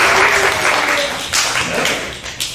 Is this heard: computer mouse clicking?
no